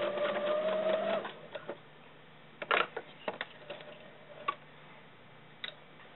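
A sewing machine stitches fabric doll leggings for a ball-jointed doll, running steadily for about a second before stopping, followed by scattered soft clicks and taps as the stitch is locked and the work is handled.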